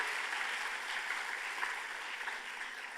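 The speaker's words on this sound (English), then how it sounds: "Can I have another round of applause for the fabulous Avalon?" Audience applause at a closing ceremony of an international forum, a faint, even patter of many hands clapping that carries on throughout at a distance.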